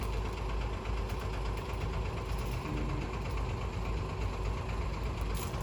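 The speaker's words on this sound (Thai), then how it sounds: "คู่หูคันใหม่ของเราคือยังเป็น PC 210ครับรุ่น 10" A Komatsu PC210-10M0 excavator idles with a steady low diesel rumble and faint rhythmic knock, continuous and close with no talk.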